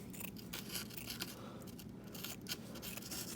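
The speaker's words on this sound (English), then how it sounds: "So first I cut a small piece off the roll." Scissors snip a small piece of plaster cloth off the roll for an HO scale diorama, giving a dry, papery crunch that repeats in several quick cuts at close range, with no talking.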